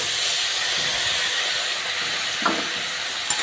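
A paste of cumin, green chili and ginger sizzles in a hot pan for a vegetarian mixed-vegetable dish. The hiss is steady and close, with a brief flare of crackle near the end and no talk.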